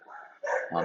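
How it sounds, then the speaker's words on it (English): A couple of dog barks and yips, somewhat muffled and in the background, with a short pause between them. "I do apologize for the dogs barking in the background"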